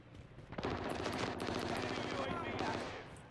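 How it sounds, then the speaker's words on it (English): Rapid automatic gunfire from a video game during a multiplayer session, a sustained burst of shots starting after a brief pause and continuing steadily, with players talking over it. "Who's shooting?"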